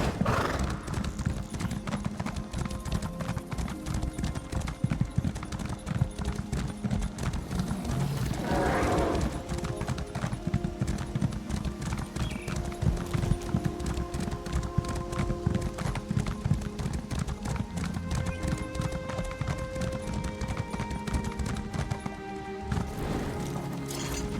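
Horse riding in The Elder Scrolls Online, a steady close clip-clop of galloping hooves running throughout with an occasional neigh, no talk.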